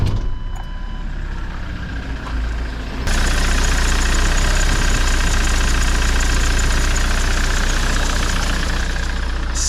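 A van's engine idles after an alternator with a worn pulley was replaced, starting quieter, then jumping to a loud, steady idle with a faint rattle running underneath.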